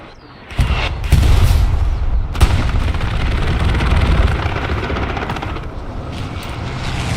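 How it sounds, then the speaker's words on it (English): An aircraft makes a strafing run in the World War II shooter Hell Let Loose. A loud, roaring engine rumble mixes with rapid gunfire and booms, sustained and heavy from start to finish. "Great attempt at the strafing run."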